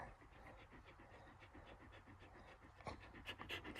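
Sadie the dog pants steadily and rhythmically up close, quick repeated breaths over soft outdoor background noise, with a brief sharper sound near the end.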